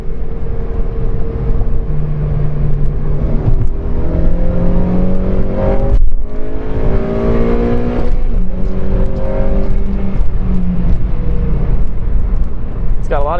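Honda Civic Si engine revving hard through the gears with VTEC, rising whines climbing in pitch, a brief drop near the middle before another climb, loud and close with no talk over it.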